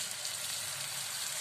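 Tomatoes drop into hot ginger-garlic paste with green chillies for palak paneer, giving a steady, close sizzle and crackle of frying that holds even throughout with no voices.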